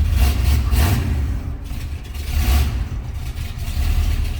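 A 1970 Chevrolet Nova V8 with 2.5-inch stainless exhaust runs loud and steady, revving up in a few surges with a deep throaty rumble, no talk over it.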